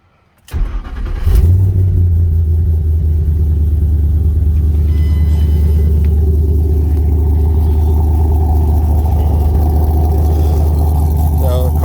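A 2008 Ford Mustang GT V8 with aftermarket cams cranks and fires up close by, then settles into a loud, steady, lumpy idle that runs on without a break.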